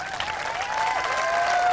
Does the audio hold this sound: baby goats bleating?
no